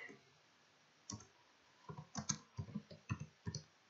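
Keys on a computer keyboard tapped in short clusters, a handful of crisp clicks with pauses between them, close and fairly quiet with no one speaking.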